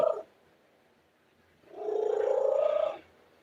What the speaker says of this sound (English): Listen to you, such a good kitty.